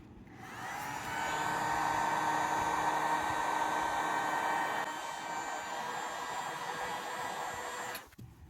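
A hair dryer blows close by, heating the lens glue on a GoPro Hero 8 for a lens swap, a steady whooshing roar with a high whine that eases slightly before cutting off at the end.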